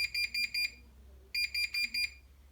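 A Bosch Logixx 9 washing machine stopped at rinse end with an E18 not-draining error gives two bursts of rapid high-pitched electronic beeps, four short tones each, separated by a brief pause; clear and close with no talking.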